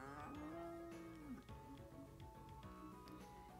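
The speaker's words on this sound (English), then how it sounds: "Oh, there is our other cow." A cow in the farming video game Story of Seasons gives a long, low moo over a light background music track, followed by softer bovine sounds, all faint.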